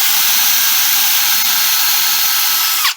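A power drill runs continuously close up, boring through a steel plate into an aluminum mast with a steady high whine that cuts off abruptly at the end.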